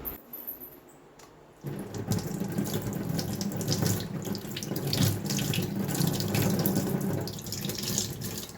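Tap water running steadily into a sink while a dress is washed by hand, a short quiet moment and a few light knocks before a full, continuous close splash and gush.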